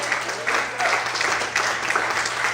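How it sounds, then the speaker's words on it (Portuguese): A church congregation applauds during a sermon in brief surging waves of clapping, moderately loud, with a low steady hum and voices mixed in. "Você pode aplaudir e glorificar a Deus."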